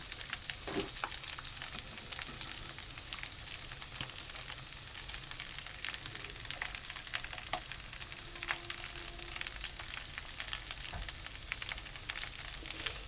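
Vada pav batata vadas deep-frying in hot oil, a dense continuous sizzle and crackle with scattered pops, steady and close throughout.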